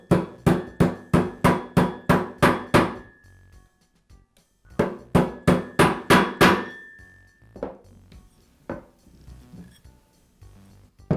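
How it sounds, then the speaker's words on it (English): A socket taps a bearing into place during a Porter Cable router repair: two quick runs of about seven sharp metallic taps each, then a few slower, softer knocks, close and clear with no talk. "I'll use the socket to tap the bearing into place."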